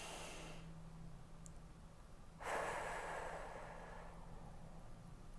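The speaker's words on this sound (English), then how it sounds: "Take a big deep breath in through your nose and exhale through your mouth." A deep breath drawn in through the nose and let out through the mouth during a lymphatic massage after a tummy tuck and lipo. One soft, airy exhale swells up near the middle and fades slowly over a quiet background.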